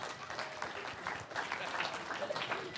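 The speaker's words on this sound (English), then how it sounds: "So let's give him a warm round of applause." Audience applause follows a warm introduction of a guest speaker at a religious liberty talk, a steady crowd clapping that stays moderately loud for the full few seconds with faint voices mixed in.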